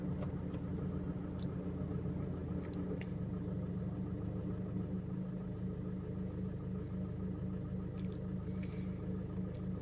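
A car engine idling steadily during a fuel injector check with a scanner, a smooth, even hum at constant RPM with no revving, close and continuous throughout.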